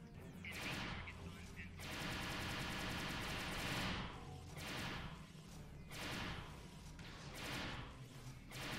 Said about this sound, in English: Shooting through the trees